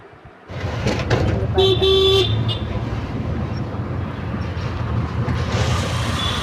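Auto rickshaw riding through busy city traffic, with a continuous close road and engine rumble, several short horn toots around the second mark, and other vehicles honking faintly in the distance.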